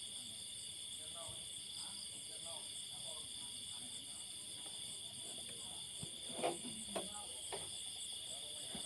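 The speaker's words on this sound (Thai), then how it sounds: "เสียงจิ้งหรีดมันร้องนะคะ" Crickets chirp in a constant high trill throughout the night, with faint quiet talking and a few soft knocks underneath.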